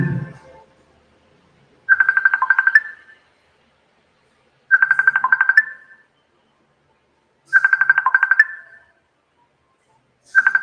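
A mobile phone ringtone for an incoming call plays a short repeating electronic trill, sounding in four evenly spaced bursts separated by silence, clear and close.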